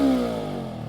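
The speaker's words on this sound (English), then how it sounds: "Let's listen to the engine one more time." Voge 525RR motorcycle engine, a loud steady close-up drone that eases slightly from a high rev.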